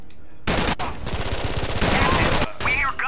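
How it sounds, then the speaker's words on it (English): Rapid bursts of gunfire from a video game, a dense fusillade of shots filling most of the clip, loud and close, with brief pauses between volleys. "We hear gunshots."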